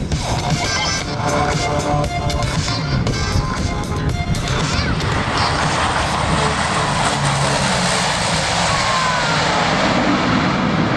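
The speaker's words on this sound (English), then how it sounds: "What we're going to see here is the short field landing of this aircraft." A military transport aircraft makes a short field landing at the Avalon 2009 airshow, a continuous loud propeller and engine roar heard from a distance that shifts in tone midway as the plane slows on the runway.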